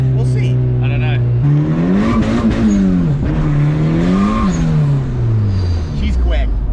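A Honda Civic with a B20 engine revs and accelerates loudly and nearby, its pitch climbing and falling through several pulls, with people talking over it.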